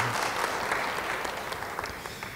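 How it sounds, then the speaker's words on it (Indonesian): A church congregation applauds during a sermon, a continuous crowd of clapping hands at steady volume that tapers slightly toward the end. "Yang percaya beri tepuk tangan bagi dia."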